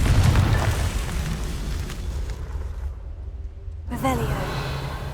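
A Confringo spell explosion in Hogwarts Legacy erupts as a loud burst at the start and fades into a long rumbling decay, with a voice heard near the end.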